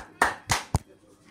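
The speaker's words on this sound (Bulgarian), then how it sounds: "аплодисменти, не пускам даже" Three separate hand claps in quick succession, close and fairly sharp, with quiet room tone between them and nothing else.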